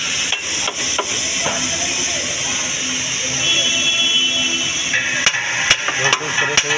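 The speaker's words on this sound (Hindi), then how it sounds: "और आप नक्कल पे चोट मारते हैं रबर की मदद से" A rubber mallet knocks on the steering knuckle of a Maruti Wagon R during a steering rack repair, giving a few scattered dull strikes early and a quicker cluster near the end over a steady hissy background.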